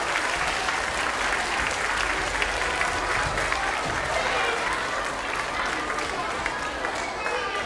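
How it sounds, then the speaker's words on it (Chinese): An audience at the Taitung County children's choir concert in Kaohsiung's cultural centre claps steadily and densely. The applause stays full and even throughout, with a voice speaking over it. "谢谢观众热情的掌声"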